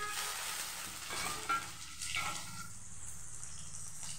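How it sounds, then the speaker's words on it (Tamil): Whole spices (cinnamon, star anise, cloves, cardamom, peppercorns, cumin, fennel and dried red chillies) sauté lightly in a pan, giving a soft, steady sizzle and hiss with faint stirring scrapes and no talking. "எல்லாம் கருகிராமல் லைட்டாக வதக்கி எடுத்துக்கலாம்."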